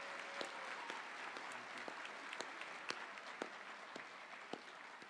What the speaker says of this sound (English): please help me give our dignitaries a huge round of applause for their support of Ferguson High School and our students.